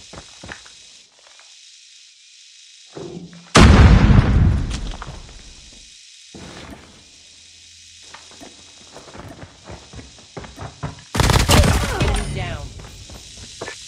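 BP50 rifle firing in the Call of Duty Mobile game, loud sharp bursts of rapid shots in two main volleys with scattered single shots and game sounds between, and a voice heard at times.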